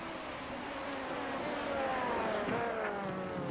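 Race cars in iRacing at Interlagos, LMP2 and GTE classes, roar past in a blended engine wail, pitch sliding down as one car passes mid-way while others hum steadily at moderate distance.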